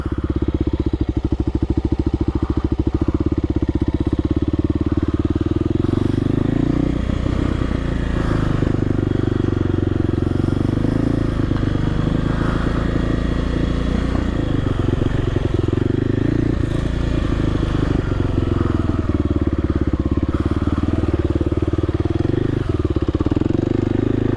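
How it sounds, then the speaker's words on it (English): A Kawasaki KLX 300R dirt bike engine runs close by with a steady, loud single-cylinder putter and idle, blipping briefly now and then over its continuous drone. "now I can start it in any gear as long as I got the clutch pulled in."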